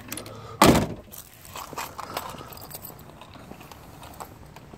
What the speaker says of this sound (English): Let me go to the other side. Close that door.